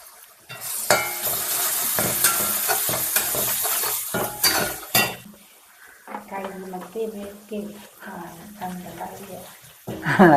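Curry leaves hit hot oil in a pan with crushed onion and chili, bursting into loud, close sizzling and hissing for several seconds before it settles, and a person then talks over the quieter frying.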